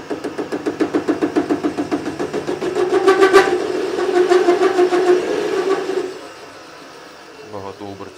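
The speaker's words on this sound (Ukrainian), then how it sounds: "ми бачили, що двигун ще продовжує крутитись" A diesel engine runs with a rhythmic knocking chug and a steady droning hum close by, then winds down and fades after a few seconds; the drive belt needs tightening.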